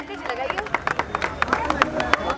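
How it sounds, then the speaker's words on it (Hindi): Audience clapping at the Mahindra Thar Roxx launch event in Patna, with irregular bursts of claps rising and falling under a busy mix of voices and crowd chatter. "एक बार जोरदार तालियां हो जाए"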